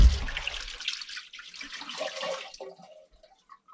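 Liquid antifreeze poured down a cabin drain for winterizing: a loud rushing pour at the start that thins into gurgling and trickling as it drains away, with no talk.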